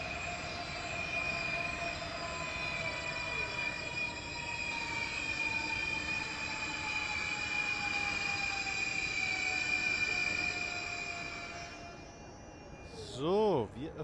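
A train in the Train Simulator game rolls into a station platform, its wheels squealing in long sustained high tones over a steady rumble, then easing off near the end.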